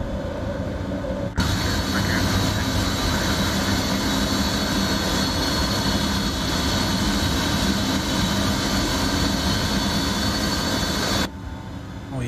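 Twin jet engines of an Embraer E-145 roar loud and steady during the takeoff climb in a flight simulator, a sustained broadband drone that starts abruptly and runs unbroken until it cuts back near the end.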